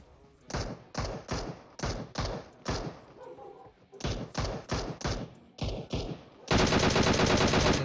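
Bursts of automatic gunfire in the PUBG Mobile battle royale game come in rapid volleys of about a dozen loud, separate sprays. A final sustained roar of dense fire closes the sequence, and no one talks.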